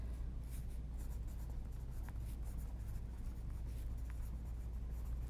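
A pen scratches steadily across a mixed media page, a soft continuous rasp of writing under faint room hiss.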